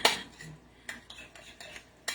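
A utensil scrapes and clinks against a bowl while stirring a mayo mixture for banh mi, a sharp tap at the start followed by light intermittent scrapes and another clink at the end.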